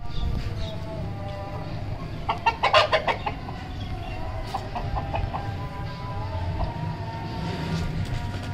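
An Aseel hen clucks around egg-laying in a quick burst of sharp, repeated calls, followed by softer scattered clucks over a steady low background hum.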